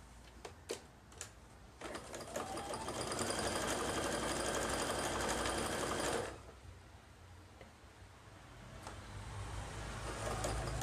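A sewing machine runs a straight stitch along the very edge of a folded flap on a fabric notebook cover, a steady close mechanical whir lasting about four seconds between quieter handling sounds.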